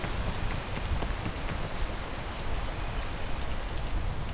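Steady rain in the climbing video game PEAK, a dense, even hiss of falling drops pattering on surfaces, continuous and fairly loud with no voices.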